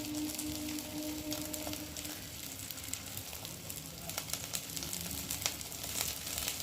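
Oil sizzles steadily in a pan as an egg-coated flatbread fries, a soft, continuous crackling hiss at low volume.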